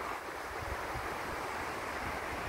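Sea waves on the Arabian Sea shore at Alibag beach near Kulaba Fort, a steady broadband wash of surf mixed with wind noise, continuous and fairly close.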